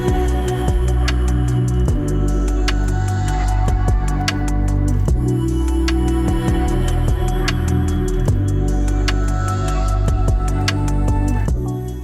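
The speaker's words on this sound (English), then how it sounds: "you can kind of modulate that drone throughout your piece of music" A dense, sustained drone of layered, washed-out vocal tones with a hazy, reverberant shimmer, steady and loud throughout, with faint ticking textures.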